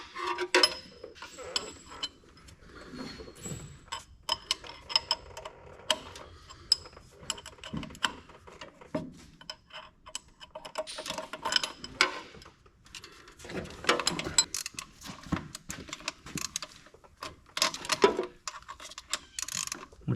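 Wrench ratcheting as a bolt is tightened on an old Allis Chalmers grader, a run of quick irregular clicks and metallic creaks with knocks, fairly faint and close, no talk.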